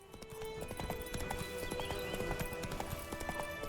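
Galloping horse hooves from a ride in The Witcher 3, a steady rapid clip-clop rhythm running continuously at moderate loudness, with an occasional whinny under the game's ambient sound.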